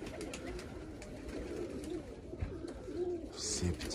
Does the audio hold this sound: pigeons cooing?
yes